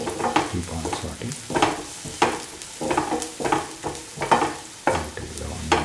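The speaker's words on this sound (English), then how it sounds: "Keep on sauteing" Onions sautéing in a pan sizzle steadily while a spatula stirs and scrapes in a regular rhythm, each stroke clear and close.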